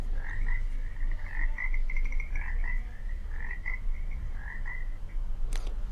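A frog croaking in a steady, continuous trilling chorus that runs almost the whole time, fairly close and clear above low background rumble.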